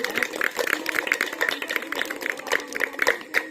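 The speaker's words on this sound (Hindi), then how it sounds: "एक बार फिर से उनको बहुत बहुत धन्यवाद और जोरदार ताली उनके लिए हो जाए" An audience at a welfare committee's award function for artists claps steadily, a dense, even rattle of many hands lasting several seconds at moderate loudness, with no talking over it.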